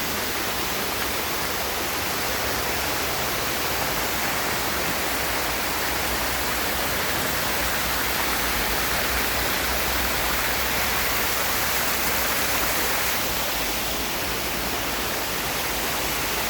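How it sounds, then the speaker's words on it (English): Little Dunns River Falls in Ocho Rios, Jamaica roars as a steady, dense rush of falling water, loud and unbroken throughout with no voices heard. "it's called Little Duns River Falls"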